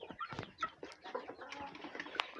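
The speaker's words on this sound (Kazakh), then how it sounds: "Әтеш." Chickens cluck and a rooster calls in a farmyard at feeding time, with several short overlapping bird calls and scattered pecking noises at close range, and nobody talking.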